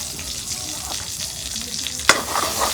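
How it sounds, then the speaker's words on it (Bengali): Chopped onion fries in hot oil with a steady, close crackling sizzle, punctuated near the end by one sharp clack of a utensil against the pan. "তেল গরম হচ্ছে পেঁয়াজ কুচি দিয়ে"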